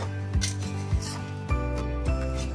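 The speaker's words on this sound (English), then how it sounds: "So give it a stir." Poha of flattened rice stirred in a pan: a steady scraping and rubbing of a utensil through the rice, with soft periodic knocks against the pan about every half second, over a constant background hum.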